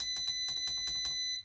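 A series of short, high electronic beeps from a battery tester in a quick, even rhythm over a steady tone.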